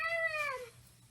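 A cat gives a single clear, drawn-out meow that slides downward in pitch, close and moderately loud over a quiet outdoor background.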